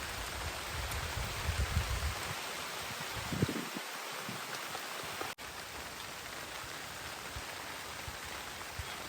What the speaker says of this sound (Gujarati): જો વરસાદ પણ બહુ વધારે આવવા માંડ્યો છે